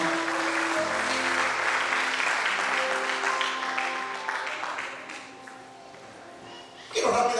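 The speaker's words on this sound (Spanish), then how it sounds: "Den esa ofrenda de palmas al Señor" A church congregation claps together in a sustained, dense wave of applause offered to God, fading gradually over several seconds before a sharp new burst of sound at the end.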